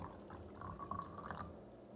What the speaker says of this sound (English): I'm gonna pour a little bit of this indicator into my cup